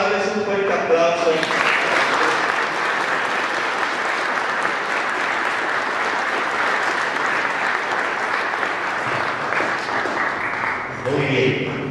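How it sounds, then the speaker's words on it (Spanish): Audience applause at a quinceañera celebration in García de la Cadena, Zacatecas: a long, steady wash of many people clapping, with brief voices at the start and end. "vamos a darles un fuerte aplauso."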